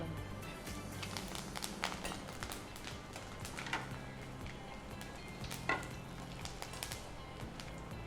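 Bitter gourd slices frying in hot oil for a crispy kismuri, a steady close sizzle with crackling bursts and occasional clinks of a utensil.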